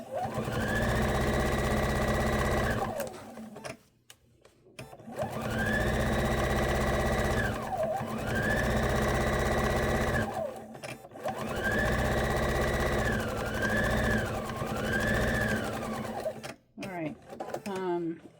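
Sewing machine stitching quilting lines across a placemat, running in three long loud bursts of rapid even whirring with short pauses between, close by.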